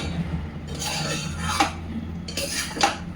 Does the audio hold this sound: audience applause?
no